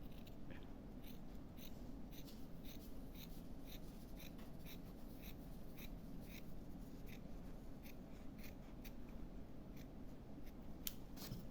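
Scissors snip a piece of embroidery canvas in a quick run of faint, crisp cuts over a steady low background hum, close but quiet, with no talk.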